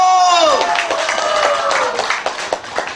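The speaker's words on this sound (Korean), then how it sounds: "그 박수 한번 쳐봐 박수 한번 함성" Festival crowd at an outdoor folk performance clapping and cheering, scattered claps and shouts under a loud sustained voice at the start, then sharper individual claps standing out near the end.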